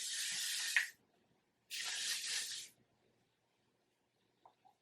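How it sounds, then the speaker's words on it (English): Hairspray hisses from a can onto hair in two separate, close bursts of about a second each, with quiet pauses between them. "I'm going to just spray my hair with some hairspray"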